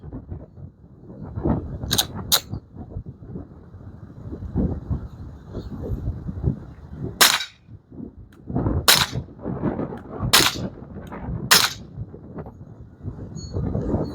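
Suppressed 9mm subsonic handgun shots through a Dead Air Primal suppressor ring out outdoors as about six sharp, muffled cracks spaced a second or more apart, over low rumbling background noise.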